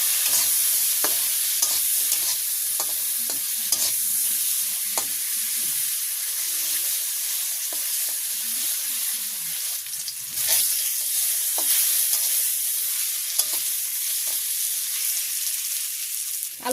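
Potatoes fry in hot oil with salt and turmeric in a village kitchen, a steady loud sizzle running throughout as a utensil scrapes and stirs them in repeated clinks, with no talking.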